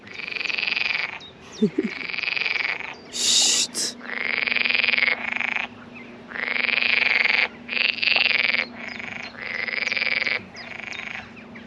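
Frogs croak in long, loud buzzing bursts, one after another with short gaps, close by, with a faint low hum underneath.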